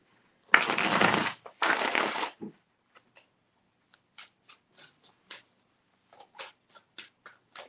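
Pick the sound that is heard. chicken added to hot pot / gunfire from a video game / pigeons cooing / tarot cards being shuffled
tarot cards being shuffled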